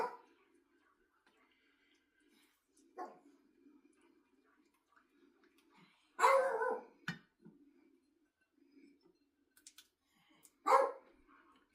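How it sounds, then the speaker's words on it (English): Tuck, a pet dog, barks from somewhere in the house in a few separate bursts, one louder double bark in the middle and another near the end, with a quiet voice murmuring between them. "He's barking."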